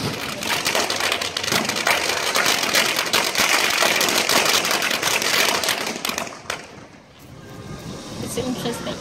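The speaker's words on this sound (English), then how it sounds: "There's nothing that says party like fireworks in a garbage can." Fireworks set off inside a garbage can at a rooftop party in Yunnan, China, a dense rapid crackle of bangs and pops with hissing sputter that runs loud for about six seconds, then thins to scattered crackles.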